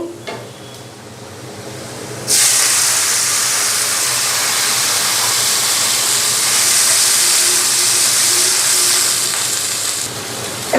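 A loud, steady hissing sizzle bursts in suddenly as water hits frying onions in a hot pan, holding strong for several seconds before easing off.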